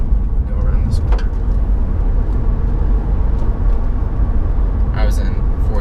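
A 2012 Acura TL 3.5L sedan rounds a corner in sport mode, heard from inside the cabin as a steady low engine and road rumble, with a few brief clicks and bumps.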